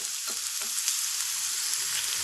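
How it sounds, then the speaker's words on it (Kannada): Raw green peas frying in a pan for bathani kurma, a steady bright sizzle with faint stirring bumps underneath, close and even throughout with no voices. "ಬಟಾಣಿ ಚೆನ್ನಾಗಿ ಫ್ರೈ ಮಾಡಿದ್ದೀನಿ."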